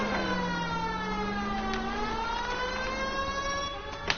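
Police car siren in the video game L.A. Noire, a steady wailing tone rising and falling slowly, loud and continuous throughout with engine noise beneath.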